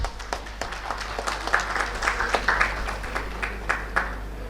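Scattered hand claps from a small crowd, moderately loud and uneven, over a low steady hum.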